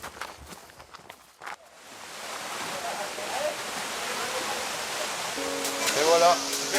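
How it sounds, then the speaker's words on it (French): Welemarong waterfall on a remote Indonesian island sends out a steady broadband rush that builds after a few opening footsteps or splashes, with a brief tonal chirp near the end. "La cascade de Welemarong."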